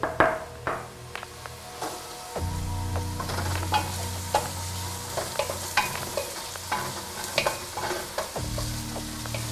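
Onions, leeks and celery sauté in a pot for delicata squash soup, a close, steady sizzle broken by repeated spoon stirs and scrapes against the pan, with no talking.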